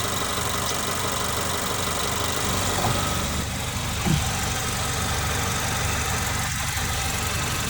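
A 2015 Honda Accord engine idles steadily and close by, a continuous low rumble with a faint rattle, with no voices.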